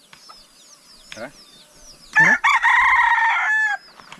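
Bantam chickens cluck in short bursts before a rooster lets out one loud, close crow; someone speaks briefly near the start.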